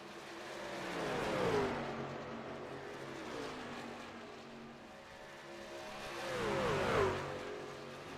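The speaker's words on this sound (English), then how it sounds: "Four trucks battling for position" Several racing trucks battle for position on a track, engines swelling as they pass near, fading in the middle, then surging loudly again, a whining roar rising and falling over a few seconds.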